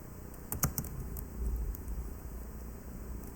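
Numbers are being typed on a computer keyboard with a quick cluster of light key clicks. Faint fan hum runs steadily underneath and no voice is heard.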